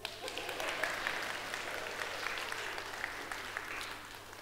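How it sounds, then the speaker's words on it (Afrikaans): An audience at a children's church service claps together, a soft continuous patter of many hands at a moderate distance. "Asseblief gee my hande klap."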